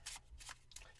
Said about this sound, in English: Just give the deck a quick shuffle, flipping some cards over as you go.